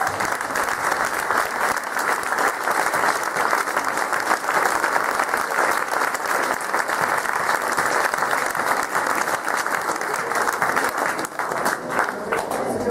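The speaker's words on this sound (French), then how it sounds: "Donc, allez, on peut aussi les applaudir" Sustained audience applause at a ceremony, dense and steady clapping from a crowd filling the whole stretch without pause, no voices standing out above it.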